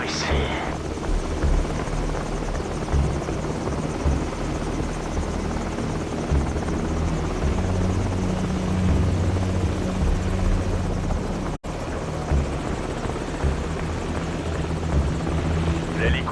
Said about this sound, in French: L'hélico s'en va, on y va!